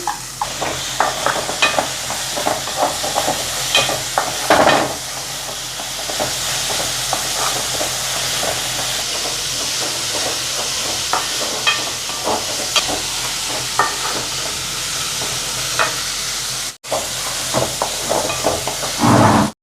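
Dried anchovies and finely chopped ingredients sizzle in a hot pan, with a continuous loud frying hiss broken by scraping spatula stirs throughout and a brief pause near the end.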